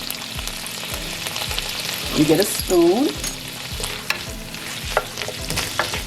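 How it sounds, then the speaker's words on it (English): Steady sizzle of carrots sauteing in a hot pan, with a spoon stirring and scraping now and then; a voice speaks briefly midway. "You're not frying them. You're sauteing them."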